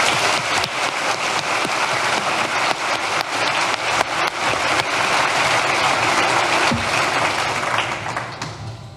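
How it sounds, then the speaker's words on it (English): An audience claps at an 8th grade graduation ceremony at Indian Hill Middle School, a dense, steady wash of many hands that stays loud throughout and fades slightly near the end. "Please join me in a round of applause for them all."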